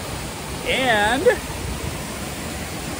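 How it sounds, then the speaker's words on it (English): A waterfall pours down nearby in a cave, a steady broadband rush throughout, while a voice speaks briefly over it. "I'm under a waterfall."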